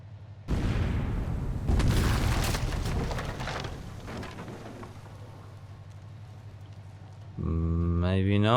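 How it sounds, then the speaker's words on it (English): Torpedo explosions striking a small WWII corvette in a naval warfare game: a sudden loud booming blast followed by a second rumbling impact, fading into a low sustained roar before another burst at the end. "Hopefully 2 torpedoes will be enough to sink the Wild Rover here."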